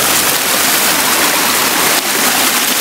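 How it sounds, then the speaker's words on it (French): Loud, continuous rushing water pours down a rain-flooded mountain trail turned into a cascade on a volcanic peak on Réunion island, a dense, steady roar with no pauses. "Je marche dans l'eau."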